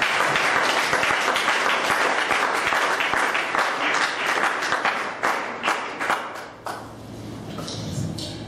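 A church congregation applauds loudly and steadily, dense clapping from many hands filling the room, then thinning out toward the end.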